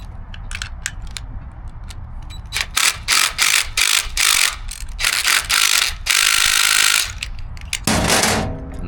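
Bolts being tightened during hotel furniture assembly, with a series of close, loud ratcheting and rubbing bursts of uneven length, a longer sustained stretch near the end, and no talk.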